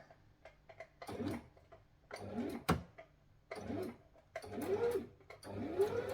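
Sewing machine stitching slowly along a ditch seam while a dress is being made, short bursts of whirring separated by pauses and ticking clicks, fairly close.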